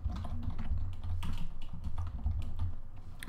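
Typing code on a computer keyboard, a quick irregular patter of key clicks heard fairly close over a low steady hum, with no talk.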